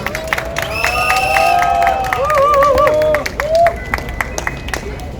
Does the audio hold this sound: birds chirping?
no